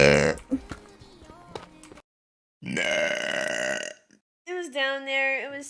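A vtuber's burps: a low gravelly belch, then after a pause a long loud eructation, ending with a shorter croaking burp, all close and prominent.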